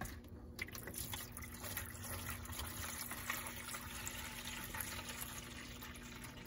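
Water poured into a reptile enclosure trickles and splashes steadily at close range, a soft continuous flow with a faint hum beneath.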